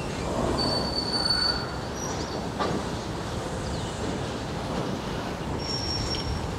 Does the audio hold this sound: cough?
no